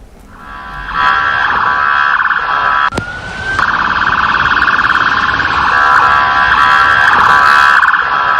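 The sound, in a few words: police car sirens heading to the White House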